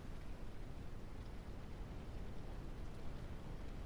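Rain in the Ranch Simulator video game, a steady, dense, low rumbling wash of rainfall with no distinct drops, faint and unchanging throughout, no voices.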